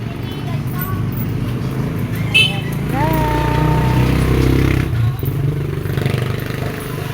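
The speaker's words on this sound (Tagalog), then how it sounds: "Oh, motor." A motorcycle engine drones nearby and swells as it passes, mixed with clattering and scraping street noise and people talking in the background.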